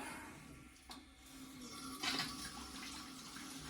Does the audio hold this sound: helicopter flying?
no